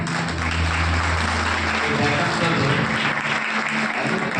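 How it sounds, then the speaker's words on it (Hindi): A church congregation claps together in a dense, continuous burst of applause at a Hindi-language worship service, steady and loud, with a low sustained hum beneath it and no clear speech. "इसके लिए एक ताली बजा"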